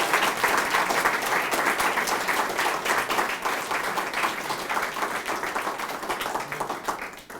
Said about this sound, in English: Please join me in giving a round of applause for Bryan.